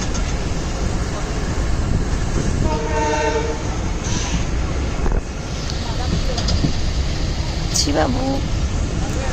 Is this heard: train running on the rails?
yes